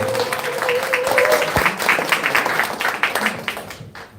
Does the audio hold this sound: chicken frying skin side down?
no